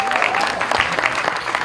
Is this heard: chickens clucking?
no